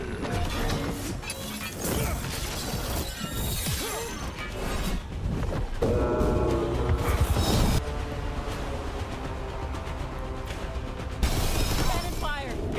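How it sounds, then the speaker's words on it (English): Heavy cannon fire in the video game Dragon Age: The Veilguard, loud booming blasts and crashing impacts layered over dense battle noise and music, with a voice talking through parts of it. "Cannon fire. Get clear."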